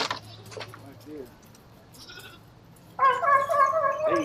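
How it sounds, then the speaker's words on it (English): Miniature goats on a small farm bleat in a loud, wavering chorus near the end, after a stretch of quiet background with brief talk earlier. "That's the miniature goats right there."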